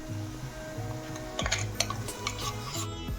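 Ground masala paste being stirred and cooked in oil with onions, spoon scraping and clinking against the pan over a soft sizzle, close and moderately quiet.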